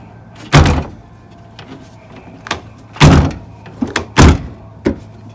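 Car part such as a door or panel being shut during a first test fit outdoors, several loud separate thunks and slams with quieter knocks between them, over steady wind noise.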